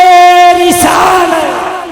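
A large crowd at a religious gathering shouts back the reply to a slogan, a loud massed roar that sustains and then slowly fades, with a sustained tonal voice over it at first.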